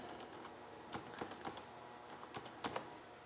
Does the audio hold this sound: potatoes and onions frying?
no